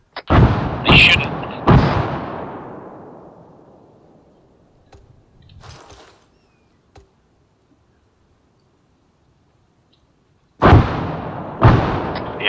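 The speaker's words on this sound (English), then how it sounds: "they're just bombarding my house." Artillery bombardment in the military game Arma 3, several heavy booming impacts with long decaying rumbles, a cluster at the start, a few fainter thuds in the middle and two more loud blasts near the end.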